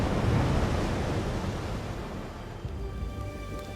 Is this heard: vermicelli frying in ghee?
no